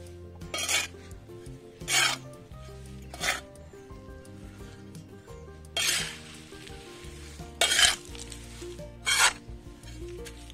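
Bone dust and mustard cake fertilizer mixed by hand for rose plants: a series of rough, rasping scrapes in separate bursts every second or two, over steady background music.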